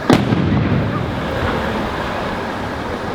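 A single ceremonial salute firing at a Veterans Day parade ceremony, one sharp loud blast at the start followed by a long fading rumble and outdoor wind noise.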